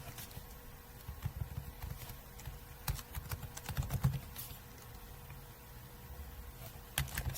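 Someone types district names into a computer keyboard, producing scattered soft key clicks and occasional sharper taps over a steady low hum, fairly faint and irregular throughout.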